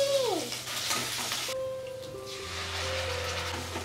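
Ginger garlic paste sizzles in hot oil for a biryani, a steady close crackle with a brief stirring scrape and some faint tonal background hum.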